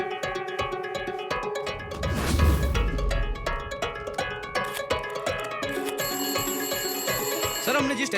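An electronic phone ringtone chimes in a repeating melodic pattern, with a brief rustling thump partway through.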